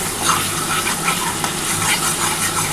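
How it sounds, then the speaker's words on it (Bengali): Spice paste with Kashmiri and hot chilli powder fries and is stirred in a pan for katla fish curry, a loud, steady sizzle with repeated scraping stir strokes throughout. "খুব ভালোভাবে এবার মশলাটা কষিয়ে নিতে হবে।"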